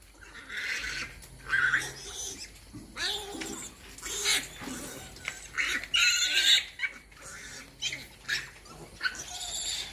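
Newborn piglets and their sow on a pig farm give repeated high squeals and grunts in irregular bursts, close and fairly loud, with a constant low hum underneath.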